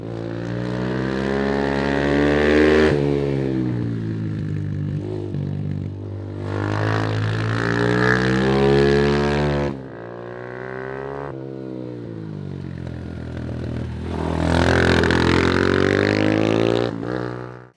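A Chinese-made mini GP motorcycle engine revs hard through its exhaust, loud and close, rising and falling in long sustained pulls with brief dips between them.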